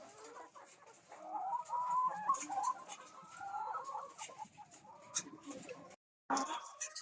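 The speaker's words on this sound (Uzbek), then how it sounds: "Hammasi tuxumlayapti tovuqlarimiz" Lohmann laying hens cluck and chatter continuously nearby, a busy murmur of soft calls with a few sharper squawks, and a short break near the end.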